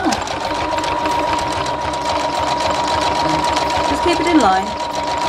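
A sewing machine runs in a fast steady whir, zigzag stitching over a cord in fabric to make piping for a bowl, with someone speaking over the machine's continuous buzz.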